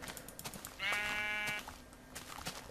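Sheep in the game Minecraft give a single clear, wavering bleat lasting under a second, loud and close over faint background game noise.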